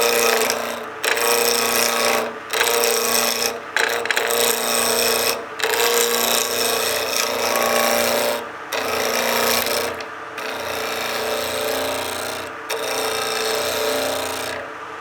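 A spindle roughing gouge cuts a pizza cutter handle spinning on a wood lathe, giving a steady, loud scraping rasp broken by short pauses every second or two as the tool lifts off the wood.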